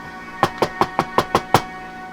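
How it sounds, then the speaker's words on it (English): Seven evenly spaced knocks rap on a door, crisp and close, in a quick steady rhythm with nothing else around them. "And then you hear a knock on your door."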